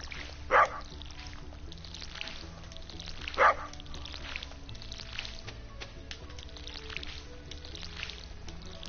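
A dog in the Stardew Valley video game gives two sharp barks, about three seconds apart, over steady background game music with no talking.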